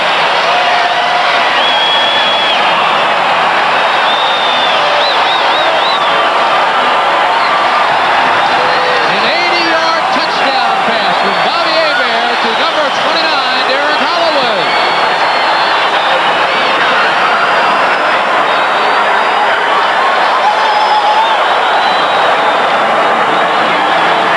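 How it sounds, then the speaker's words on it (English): A large football stadium crowd roars steadily after a Michigan Panthers touchdown, a dense, loud wash of cheering and whooping that holds for the whole stretch with scattered shouts rising out of it. "And listen to this crowd now."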